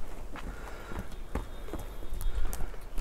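A horse in Jalal-Abad is ridden at a walk, hooves clip-clopping in an uneven rhythm of close, distinct thuds on the ground over a few seconds.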